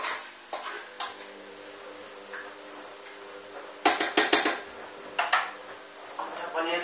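A spoon stirs chopped onion sauce for cuttlefish in an Olla GM pot, giving quiet scraping with a few bright metallic clinks against the pot, clustered in short bursts.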